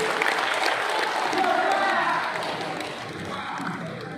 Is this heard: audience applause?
yes